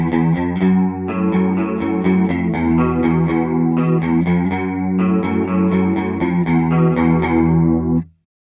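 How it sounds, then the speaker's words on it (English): An electric guitar plays a steady picked chord pattern through a chorus effect, giving a shimmering, slightly wavering doubled tone, loud and alone, ending abruptly. "Chorus adds more depth and richness to his sound, and also creates interest because of the constant modulation that's happening."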